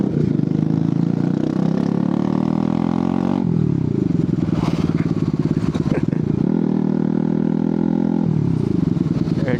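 Bajaj Pulsar NS200 motorcycle exhaust revving loud and close, a steady throaty idle broken by repeated sharp throttle blips that rise and fall over the run.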